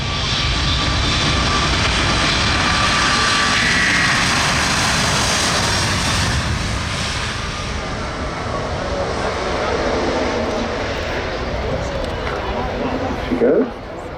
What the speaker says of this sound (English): starting the takeoff run now, ladies and gentlemen, watch this takeoff